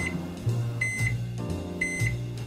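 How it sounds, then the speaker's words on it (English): A microwave oven hums steadily while running, with a rhythmic low whir, and a series of short bright beeps sounds close by at regular intervals. "I put food in the microwave."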